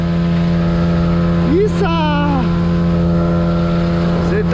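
A small mini motorboat cruises along a river, its engine droning steadily and loudly close by, with a voice calling out briefly over the constant hum.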